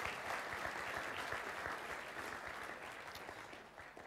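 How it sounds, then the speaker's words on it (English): An audience at a Year 12 school co-curricular evening applauds a student, a dense, steady wash of many hands clapping that stays loud throughout and eases off slightly toward the end. "I think we owe him another round of applause"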